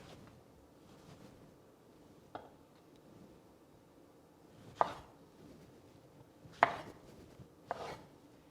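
A knife chops a tomato into quarters on a cutting board, two pieces at a time: a few sharp, separate thunks spaced several seconds apart against a quiet kitchen background.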